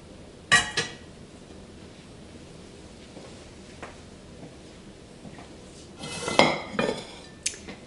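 Dishes and cutlery clatter as shrimp pasta is transferred into a serving dish, with a sharp clink near the start and a louder cluster of scraping, clinking kitchenware toward the end, separated by quiet room tone.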